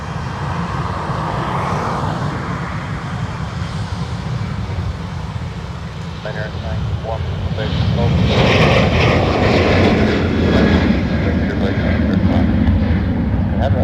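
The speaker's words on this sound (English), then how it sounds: "Ryanair rolling to Manchester." A Ryanair jet airliner rolls for takeoff from the single runway at Dublin Airport, its engines roaring loud and steady before swelling stronger partway through, while a voice talks over it.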